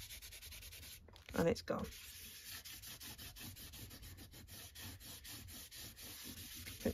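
Excess glue rubbed off a vintage journal cover by hand, heard as a run of quick, close, dry rubbing strokes in an even rhythm, with a brief spoken remark early on.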